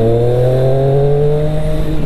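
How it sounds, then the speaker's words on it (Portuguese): A Triumph Street Triple 675R motorcycle with an Akrapovic sport exhaust drones loudly while riding in city traffic, its engine note holding steady and close. "A melhor coisa de andar na cidade com ponteira esportiva é que os caras te ouvem, né?"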